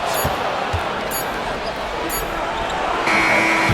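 Crowd noise fills an NBA Finals basketball arena during Game 5 between the Pacers and the Thunder, with sneaker squeaks and a sustained electronic end-of-quarter buzzer sounding near the end.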